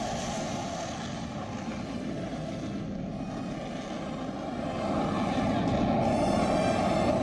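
Military jet aircraft landing on an expressway airstrip, a steady distant engine roar that swells slightly louder toward the end, with no talk.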